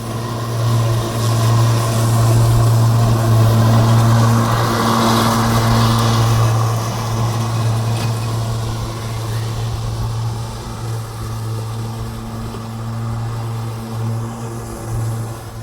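Battery-powered GTM brm96 ride-on lawn mower cuts grass with a steady, loud electric whine and blade hum, holding constant and easing slightly toward the end.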